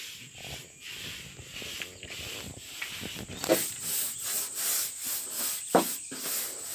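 A brush works paint across a wooden roof, producing rhythmic scratchy rubbing strokes that grow louder and more regular midway, close by with no talk.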